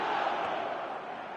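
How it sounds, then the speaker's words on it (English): Sports crowd at a match calling out and chanting in a sustained, dense roar that holds steady at moderate level across the clip, with no clear individual voices standing out. "The crowd are calling for this to be put to bed."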